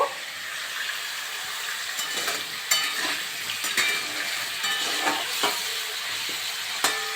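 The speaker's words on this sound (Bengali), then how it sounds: "আমি ওলগুলো লাল লাল করে ভেজে নেব" Elephant foot yam pieces frying and being browned in a pan, a steady close sizzle broken by intermittent scraping clicks of stirring, with no voices.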